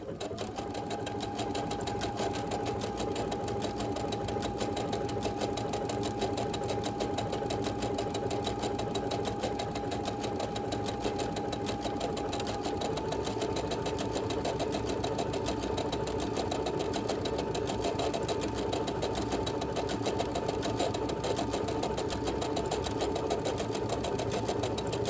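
A sewing machine stitches a blanket stitch around the inside corners of raw-edge fusible appliqué, running steadily and continuously at close range for the whole stretch as a fast, even whirring hum with no pauses or talk.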